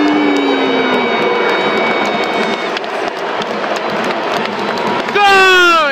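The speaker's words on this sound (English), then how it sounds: "Currently a Mexican wave coming around the crowd" A stadium crowd does a Mexican wave during a Leeds versus Wigan Warriors rugby league match at the Magic Weekend, with a loud, continuous roar of many voices that swells toward the end.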